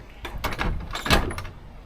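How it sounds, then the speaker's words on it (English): A door at an old coach house where horses were once kept is pushed shut, giving a scraping, rumbling slide that ends in a dull thud, close by with no talking. "I better shut the door because it says please shut door"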